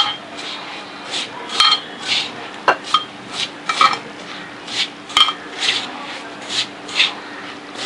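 A rava laddu mixture of semolina being mixed in a pan, with repeated scraping and rubbing strokes of a spoon against metal, close and fairly loud in an uneven rhythm, with no talking.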